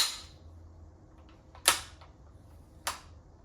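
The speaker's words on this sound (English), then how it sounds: "you can lift the bolt open with just the little finger and just that light." Bergara B14 Timber rifle in .308 Win having its bolt worked, two sharp metallic clacks about a second apart, close and clear against quiet background with a faint click between them.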